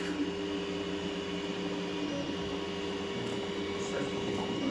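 A V-King CoreXY 3D printer runs a print at 80 mm/s with S-curve enabled, giving a steady low motor hum and whir at moderate distance, with faint shifting tones as the head moves, and no voices.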